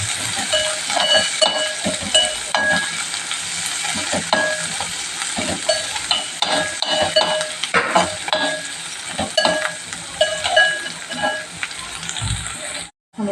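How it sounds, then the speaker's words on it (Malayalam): Ginger and garlic sautéing in a pan while making a puffed-rice upma, with steady frying sizzle and stirring scrapes and clinks throughout, close and fairly loud, with no talking. "അതും കൂടി ഒന്ന് ചെറുതായിട്ട് വഴറ്റി ആ പച്ചമണം ഒന്ന് പോയിക്കോട്ടെ."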